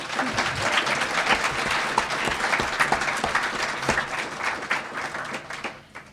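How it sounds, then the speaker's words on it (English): Audience applause for panelists at a business networking event, a dense sustained clapping from a room full of people that fades out toward the end. "Let's give a round of applause, though, for our panelists first off"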